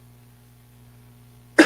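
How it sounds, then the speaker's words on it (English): A single sharp, close cough breaks abruptly out of near silence and a low steady hum near the end, loud and sudden, with no talking around it. "sorry about the cough, guys."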